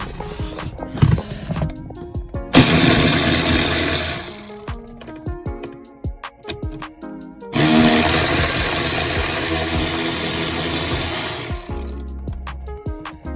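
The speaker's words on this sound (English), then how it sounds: "I'm gonna go ahead and take the bolts out the seat" A power tool whirs loudly in two sustained bursts while removing seat bolts from a 2004-2006 Pontiac GTO, with ratcheting clicks, metallic clanks and tool handling in the gaps between runs.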